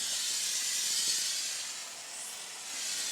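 Hand sprayer held close to the mask while sandblasting a masked acrylic award, a steady close, loud rushing hiss that dips slightly then swells again.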